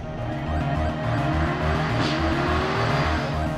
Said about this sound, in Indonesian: dalam mode berkendara Corsa seperti tadi, suara dan tarikan performa dari mobil ini sangat terasa agresif